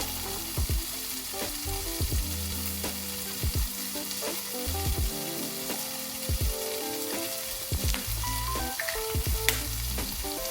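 Tofu fries in olive oil in a pan, giving a continuous close sizzle punctuated by clicking taps and scrapes as it is stirred.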